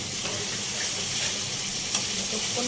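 Fish roe fritter curry with masala and curd sautéing in a pan, a steady close sizzle and frying hiss with faint stirring clicks throughout.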